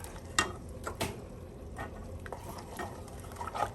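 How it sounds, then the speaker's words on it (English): A spoon stirs macaroni and cheese in a cooking pot, giving soft scraping strokes at an irregular pace over a faint background hiss, quiet and close, with no talking. "I'm gonna give it a stir"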